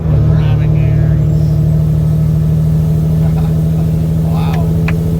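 A Peterbilt truck with a 350 HP Detroit Diesel engine hauling a load of about 63,500 kg, a loud and steady low diesel drone heard from inside the cab, with voices talking over it.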